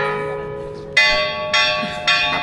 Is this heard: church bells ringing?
yes